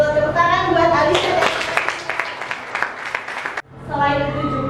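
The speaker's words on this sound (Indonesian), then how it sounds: "Tepuk tangan buat Alisa." A classroom of students claps for a pupil named Alisa in a math lesson, a short burst of dense, close clapping running about three seconds over a teacher's talk, then cutting off as speech resumes.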